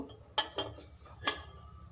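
A metal lid lifted off a pan while chitoi pitha cooks, giving a few close, light clinks and rattles spaced over about two seconds in a quiet kitchen.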